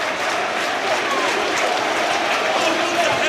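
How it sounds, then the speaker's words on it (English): Football crowd at the Stadium of Light on its feet applauding during a Premier League match, a dense, continuous wash of clapping and crowd noise heard from the stands. "Warm applause."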